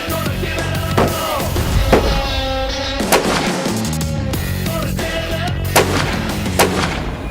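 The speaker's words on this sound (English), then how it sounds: "My STW, I'm going to be shooting 180 grain VLD." Rifle shots from a McWhorter STW firing 180 grain VLD bullets at an outdoor range, with several loud sharp reports spaced a second or so apart over a constant background rumble.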